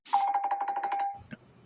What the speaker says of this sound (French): Excusez-moi pour le téléphone, j'ai oublié de l'éteindre.